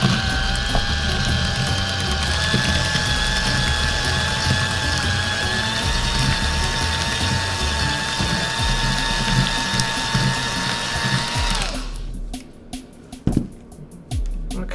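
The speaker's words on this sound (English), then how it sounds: "So I'm going to start mixing up the butter until it's creamy." A stand mixer creams butter for whoopie pies, a steady close whirring motor drone with tonal harmonics that runs unbroken for about twelve seconds, then cuts off, leaving a few sharp clatters and knocks.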